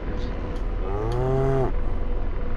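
A cow moos once inside the combat flight simulator DCS: a loud, close, drawn-out bellow with a steady tone, lasting under a second, over constant background game noise.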